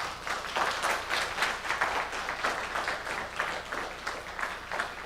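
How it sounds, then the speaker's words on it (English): Steady, dense applause from a congregation at an Erev Shabbat service fills the whole stretch at an even, fairly loud level, with no break and no voices standing out. "A nice sound applause."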